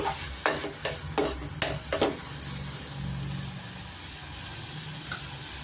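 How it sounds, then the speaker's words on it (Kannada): Tomatoes fry in a pan for aloo sagu, stirred with a few quick scraping clinks before settling into a steady, quiet sizzle. "ಇದಕ್ಕೆ ನಾನು ಟೊಮೆಟೊ ಸೇರಿಸ್ಕೊತಾ ಇದ್ದೀನಿ ಟೊಮೆಟೊ ಸ್ವಲ್ಪ ಫ್ರೈ ಆಗಿ ಸ್ವಲ್ಪ ಸಾಫ್ಟ್ ಆಗಬೇಕಾಗುತ್ತೆ"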